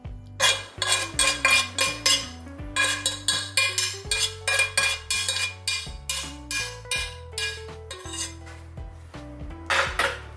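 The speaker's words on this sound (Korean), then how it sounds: "요거를 넓은 접시에다가 펼쳐가지고 더 이상 익지 않게 열기를 날려주세요" A metal utensil scrapes and clinks against a wide plate in quick repeated strokes while cooked zucchini is spread out, loud and close with no talking.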